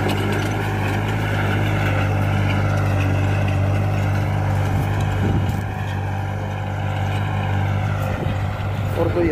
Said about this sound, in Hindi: तो यहाँ पर ट्रैक्टर चलागा,